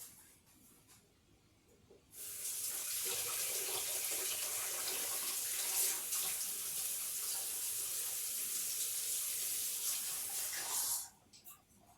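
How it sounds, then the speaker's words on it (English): A tap runs steadily as hands are washed in a kitchen sink, a close, even hissing water stream that starts abruptly and continues for about nine seconds before shutting off. "Now I'm going to wash my meat stained hands."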